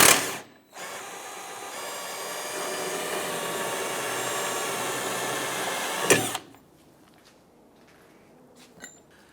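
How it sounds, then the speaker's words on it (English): A power tool spins an 18mm socket on the rear suspension endlink bolt of a 2008-2013 Nissan Rogue, a steady whirring run of about five seconds that ends with a sharp click, followed by quieter metallic handling noises. "Using an 18mm socket and an 18mm wrench, let's go ahead and loosen this lower bolt."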